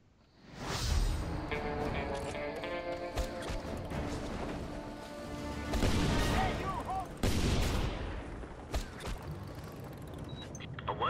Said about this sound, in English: There must be guys with rocket launchers around or something.